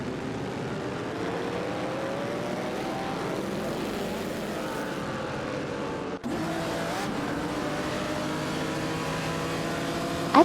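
Video game racing cars, an Auto Union Type D and a Maserati 8CTF, roar continuously on track with a steady engine drone, briefly cut off for a moment, then resume.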